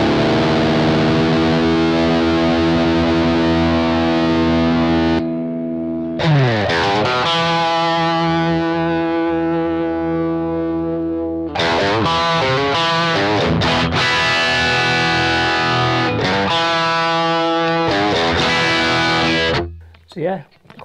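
Distorted electric guitar, a 1980 Greco Mockingbird, playing heavy metal riffs in loud bursts separated by short gaps, with sustained chords and chugging runs close to the mic.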